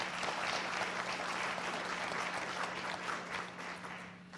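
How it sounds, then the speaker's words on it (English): An audience applauds the board of directors at an athletic hall of fame induction ceremony, steady dense clapping throughout, slightly distant, easing off toward the end under a faint hum. "Let's give our Board of Directors a great round of applause"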